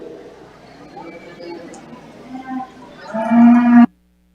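Heifers moo at a cattle show, several drawn-out bellows rising near the end, one loud and close, over a murmur of crowd and arena noise.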